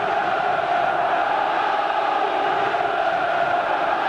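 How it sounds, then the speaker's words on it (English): Football crowd at a 1991/92 League Cup semi-final between Tottenham Hotspur and Nottingham Forest, a steady loud roar of massed voices from the stands, sustained and rising in intensity without pause. "Listen to the crowd getting really worked up now."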